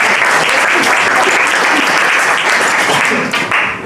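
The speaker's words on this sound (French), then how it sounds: "on peut l'applaudir." Loud, dense audience applause at a live French comedy sketch show, a continuous roar of clapping through the whole stretch that dips slightly at the very end.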